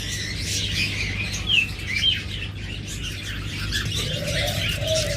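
Small pet birds, forpus parrotlets, chirp and tweet in quick, high bursts against a low background hum, with a soft warbling call near the end.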